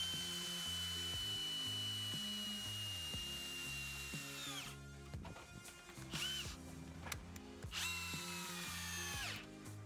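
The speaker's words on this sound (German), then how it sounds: "Bohren Sie die Löcher immer vor, damit das Holz nicht reißt." A power drill whines loudly as it bores pilot holes into wood for a garden sauna, revving steadily, slowing and winding down, then spinning up again in short bursts.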